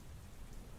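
A rain sound effect plays during a story reading, a brief, steady hiss of falling rain at low volume with no voice over it.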